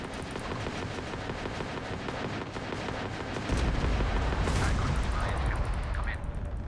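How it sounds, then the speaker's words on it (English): Ship weapons firing in the space game Starfield, rapid repeated shots in a dense rhythmic volley that grows heavier and louder partway through, with a sharp burst near the end. "The ship's weapons are powering up."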